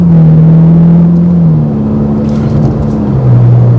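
A Ferrari Roma engine pulls strongly from inside the cabin, a loud continuous droning growl whose pitch holds and then steps through gear changes as the car accelerates.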